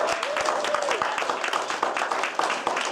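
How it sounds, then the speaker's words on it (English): Audience clapping for community activist award recipients at an awards ceremony, a steady dense patter of hands sustained throughout with a voice briefly audible near the start. "give them a round of applause, please."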